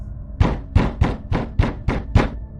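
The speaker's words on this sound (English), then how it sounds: "pounds on the bedroom door from below." Seven heavy, evenly spaced thuds of someone pounding on a bedroom door, loud and close, with no voices.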